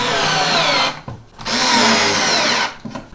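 A power drill drives screws into the legs of a TCHOMENY record player stand, whirring loudly in two long bursts separated by a brief pause, then stopping short near the end.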